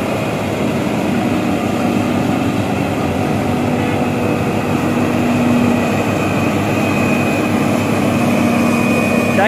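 A tractor engine runs loudly and close in a constant, unbroken drone with a low rumble and a steady whine. No voices are heard.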